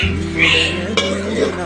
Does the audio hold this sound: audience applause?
no